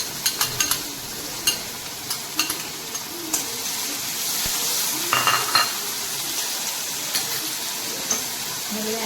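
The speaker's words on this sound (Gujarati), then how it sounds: "હવે આ થોડી વાર સાતળવા દઈશું." Garlic, ginger and chili paste sizzles in a pan for pulao, a steady close frying hiss punctuated by sharp clicks of a spoon stirring against the metal.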